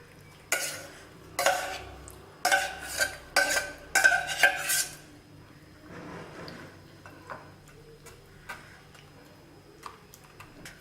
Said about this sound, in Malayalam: ഇനി ഇത് നമുക്ക് ഒരു സ്ട്രെയിനറിലൂടെ അരിച്ചെടുക്കാം.